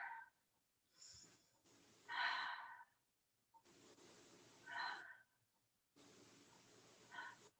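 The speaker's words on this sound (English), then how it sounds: "and breathe" Slow, deep breaths during a yoga flow, with several long inhales and exhales separated by quiet pauses, soft and close.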